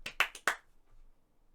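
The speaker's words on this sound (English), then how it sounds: "It's 4 claps." Four quick, crisp hand claps in a tight rhythm, close and alone, followed by quiet.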